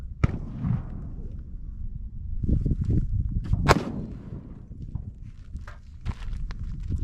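A single sharp gunshot cracks out early during an outdoor shooting lesson, with a second, softer report a few seconds later over shuffling, footstep-like movement and low background rumble.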